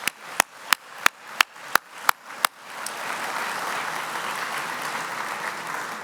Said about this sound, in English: So please join me in a round of applause for all our award recipients.